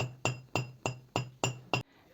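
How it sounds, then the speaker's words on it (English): A small hammer flattens wire for bead earrings, striking seven times in a steady, quick rhythm, each blow a sharp close metallic tap with a brief ring. "pay attention the way that I'm using the hammer"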